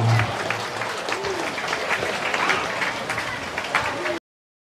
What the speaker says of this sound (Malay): Kita berikan tepuk tangan yang amat